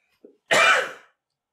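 A single short cough, preceded by a faint brief throat sound, in an otherwise quiet room during a Sunday church service.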